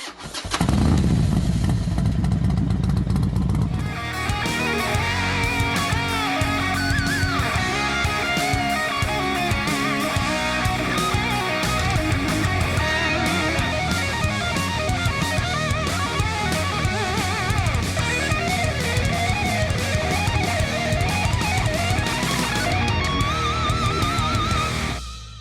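A Kawasaki Z90 motorcycle is ridden through Big Bend National Park. The engine drones loud and steady for most of the stretch, with its pitch rising and falling as it revs and shifts.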